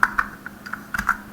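Quick, light keystrokes on a computer keyboard, about a dozen soft clicks tapped out in a short uneven burst close by.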